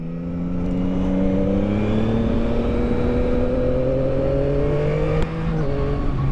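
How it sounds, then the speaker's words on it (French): A 2021 Yamaha MT-09 SP motorcycle engine revs steadily upward, its droning pitch climbing smoothly over several seconds, loud and close, with a brief blip near the end. "Ah, le moteur il est chantant."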